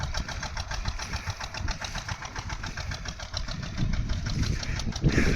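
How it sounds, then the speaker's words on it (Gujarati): A tractor runs across a peanut field during sowing, its engine throbbing in a steady, close, rhythmic chug with a rough, knocking edge and no talk. "આ રીતે ટ્રેક્ટર હાલે છે."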